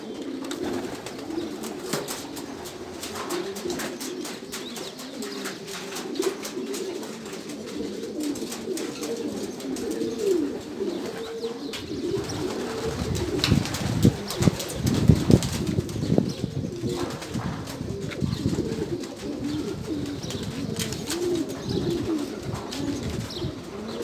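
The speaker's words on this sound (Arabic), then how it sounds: "غادي نعطيو الحمام هادو الماكله" Pigeons coo in a loft, soft throaty rolling calls repeating over a rustling, shuffling background, with wing flutters and scuffles growing busier midway, close by and without speech.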